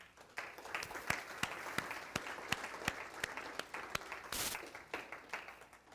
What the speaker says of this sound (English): We'd like to give all you a round of applause.